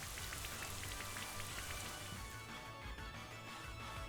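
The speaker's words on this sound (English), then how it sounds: "Rain Dance." Rain Dance in the Pokemon Sword Crown Tundra battle brings a loud, dense hiss of falling rain with scattered droplet taps, steady for a few seconds, then thinning slightly near the end.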